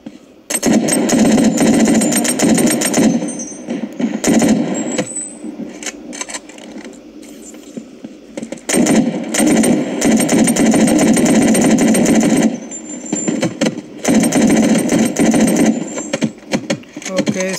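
Rapid bursts of gunfire from the mobile shooter game Battle Prime, loud and close, firing in clustered volleys with brief gaps between them.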